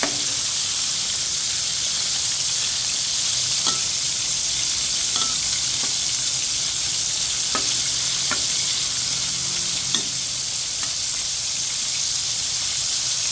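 Flour-coated chicken, Kentucky fried style, frying in hot oil with a steady loud sizzle and scattered pops and crackles, close and continuous throughout.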